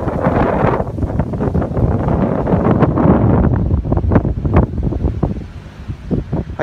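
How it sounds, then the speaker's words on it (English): Strong wind gusts across an open field, roaring and buffeting the microphone continuously, loud and close with rising blasts, while ATVs ride nearby. "Oh man, it is so freaking amazing out. It's so windy."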